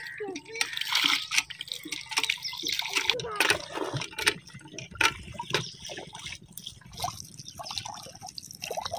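Water from a hand pump runs and drips during washing in a village yard, a steady trickle with splashy drips throughout, while someone talks over it.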